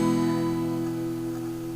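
A ringing open chord on acoustic guitar, all strings sounded in one strum and left to decay steadily for nearly two seconds, with no voices over it.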